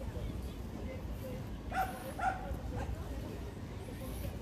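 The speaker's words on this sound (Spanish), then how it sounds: "Vaya con el perro. ¿Cómo grita?" A dog gives two quick, faint barks, heard from some distance in a quiet room.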